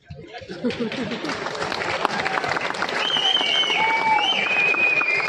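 An audience at a business conference speech bursts into clapping that quickly swells and stays full, mixed with chatter, a little laughter and some high whistles.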